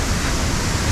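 Waterfall at a swimming spot in Ubud, Bali: a dense, steady roar of falling water that fills the brief moment evenly, without any break.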